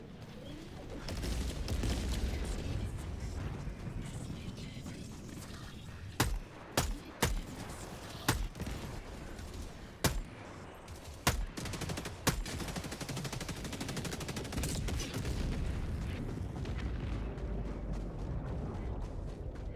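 Laser gunfire in Helldivers 2 during a fight against Automatons, a string of sharp, separate shots cracking over a thick, continuous battle din, with no talking.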